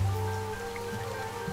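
Steady rain falls in the Duck Detective game, a continuous even hiss of drops with a low tonal hum beneath, no voices.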